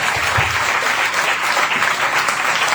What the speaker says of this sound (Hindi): एक बार अपने लिए ताली बजाइए